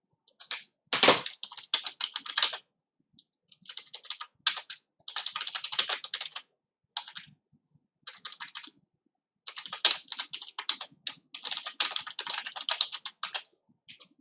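Bursts of computer keyboard typing, crisp close key clicks in quick runs separated by short pauses, with no talking.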